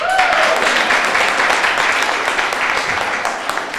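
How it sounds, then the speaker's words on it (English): A large crowd at a Martin Luther King Jr. Day celebration applauding, steady dense clapping throughout with no pauses, loud and continuous. "If you believe that, clap your hands."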